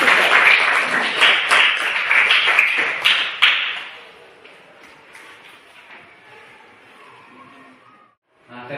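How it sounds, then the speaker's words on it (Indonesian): A classroom of students bursts into applause, dense and lively clapping for about four seconds before it quickly dies away into quiet room murmur and a few scattered taps. "Tepuk tangan."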